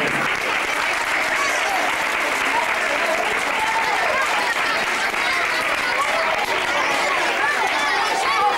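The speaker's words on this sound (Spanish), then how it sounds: "Un aplauso para este momento." A carnival audience applauds for a children's prize at a 1995 town carnival, steady dense clapping filling the whole stretch, loud and continuous with crowd noise mixed in.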